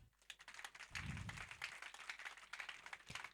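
A church congregation clapping during a prayer service, a faint, dense patter of many hands continuing throughout, fairly distant and with no clear voices.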